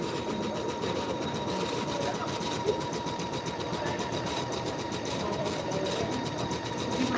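An Empisal embroidery machine stitches freestanding lace, giving a steady, close mechanical whirr with a fast, even needle rhythm that runs without a break and without talk.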